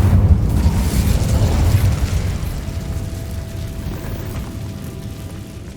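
An Incendio fire spell cast in Hogwarts Legacy erupts as a loud, deep rumbling burst that rolls on and slowly fades over several seconds.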